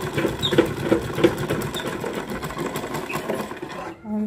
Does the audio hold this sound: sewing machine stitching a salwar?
yes